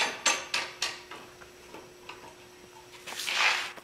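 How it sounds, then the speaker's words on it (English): The log clamp claws on a Little Ripper mini portable sawmill are tightened, producing a series of sharp metallic clanks and ratcheting taps at irregular intervals, followed by a louder scraping rasp near the end. "Alright, so now we just got to tighten these claws."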